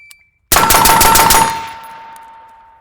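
A carry-handle AR-15 rifle fires a rapid string of about eight shots, loud and close, ending in a long echoing decay outdoors.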